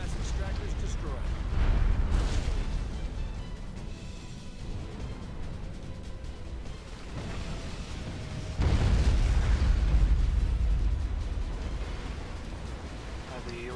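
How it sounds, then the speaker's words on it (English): A mass extractor blows up during battle in the strategy game Supreme Commander 2, with deep rumbling booms that swell twice over a dense, constant roar of combat noise. "Another mass extractor is destroyed."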